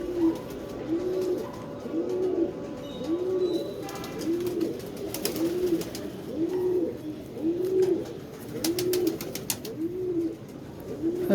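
Old pigeons cooing close by in a steady rhythmic series of roughly ten soft warbling coos, with occasional clicks and rustles and faint background voices.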